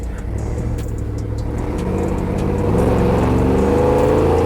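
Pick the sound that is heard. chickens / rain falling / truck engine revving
truck engine revving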